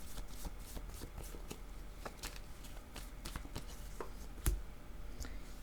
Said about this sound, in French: Attendez, je vais changer de jeu de cartes.